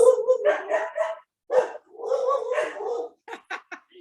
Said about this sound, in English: Sorry, got a dog barking.